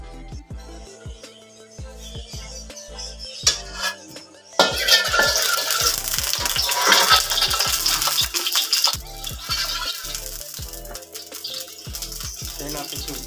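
Garlic hits hot oil in a pan and begins to sizzle, bringing a sudden rise of bright frying hiss after a few utensil clinks and taps, with stirring clatter continuing throughout.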